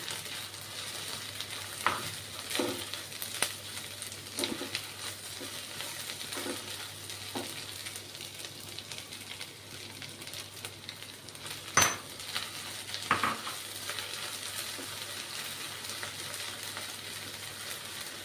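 Onion and cabbage fry in a pan with a steady low sizzle, broken by occasional scraping stirs and a sharp utensil clink, moderately quiet and with no voices.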